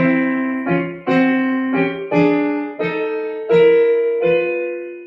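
Tenor and alto harmony lines are played together on a piano, about eight two-note chords struck in slow succession, each ringing and decaying before the next, close and clear, with no talking.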